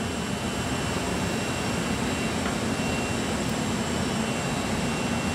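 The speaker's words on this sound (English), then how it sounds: "it's going to automatically start the spindle to give it some rotation" A Powermat 1500 machine with its spindle and belt-driven motor running during a changeover, giving off a loud, steady, broadband whirring hum with faint high tones and no change over the whole stretch.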